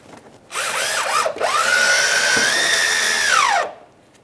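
A power driver sinks a screw into the plastic fender liner of a 2007-2013 Acura MDX, giving a short whirring burst, a brief pause, then a sustained rising motor whine of about two seconds that winds down, close and loud.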